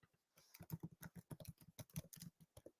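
Quick, close clatter of keys on a computer keyboard, a rapid run of distinct clicks with no speech over it.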